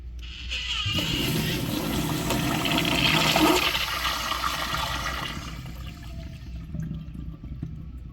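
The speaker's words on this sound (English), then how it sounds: "Enough talking, let's see a flush." An Eljer Dover third-generation urinal flushes with a loud rush of water that starts about a second in, swells to a peak and tapers into a trickling refill, heard close and alone.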